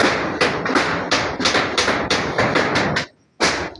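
Repeated hammer taps on a household repair job, about a dozen sharp, fairly loud blows in a steady rhythm, close by, with one short pause near the end before striking resumes.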